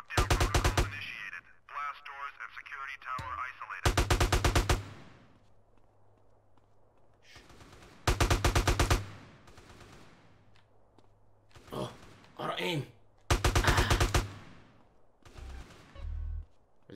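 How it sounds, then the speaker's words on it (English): Gunfire in GTA: San Andreas erupts in several loud bursts of rapid automatic shots, separated by quieter stretches of movement and ambient game noise. "Are they shooting at me?"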